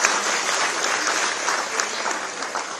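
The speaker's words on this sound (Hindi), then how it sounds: "आप तो ताली बजा दीजिए।" Audience applause at a Uttarakhand cultural gathering, a steady wash of many hands clapping together, fairly loud and even for about three seconds with no voice over it.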